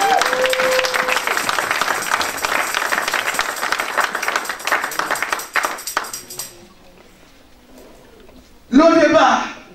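A church congregation breaks into loud applause and cheering, a dense burst of clapping under a preacher's voice that fades and then swells again briefly at the end.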